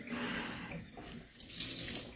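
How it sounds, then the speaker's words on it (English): Water running from a tap to soak a Norwex cleaning cloth, a soft steady hiss and splash that shifts as the cloth moves under the stream, close and quiet. "I'm going to get it good and wet"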